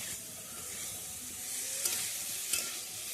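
Young jackfruit and potato stir-fried with spices in a pan, a soft continuous sizzle with a couple of sharp scraping clicks from a utensil, close up and fairly quiet.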